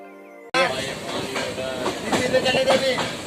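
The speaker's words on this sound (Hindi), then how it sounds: "अभी हमारी train Howrah Mumbai main line पे चल रही है" A passenger train runs on the Howrah–Mumbai (Howrah–Nagpur) main line toward Maharashtra. After a brief steady tone, a loud, close, continuous rumble and wheel clatter sets in with rhythmic surges and no talking.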